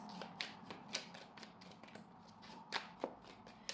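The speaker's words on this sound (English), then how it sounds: "So let me just shuffle again." Tarot cards being shuffled close by in quick riffling bursts with soft snaps between them, continuing over several seconds; no voices.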